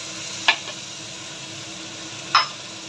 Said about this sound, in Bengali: টমেটো একটু নাড়বো